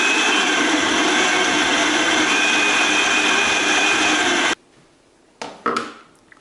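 A blender runs loud and steady, mixing a garlic and lemon drink, then cuts off abruptly; a few short clunks and knocks from handling the appliance follow in the quiet.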